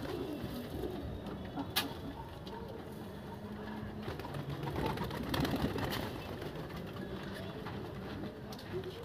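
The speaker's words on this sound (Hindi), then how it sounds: "सारे कबूतर आ रहे" Soft pigeon cooing mixed with faint background chatter and distant clatter, quiet and low throughout.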